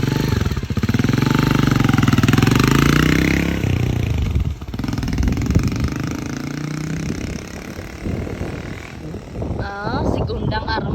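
A small motorcycle engine runs loud and close, its buzzing drone revving up and then easing off, with voices talking over it near the end.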